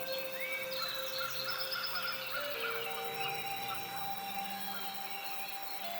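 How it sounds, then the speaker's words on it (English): Several birds chirp and warble continuously, bright overlapping calls near and far over a steady outdoor background hiss. "listening to the birds' songs"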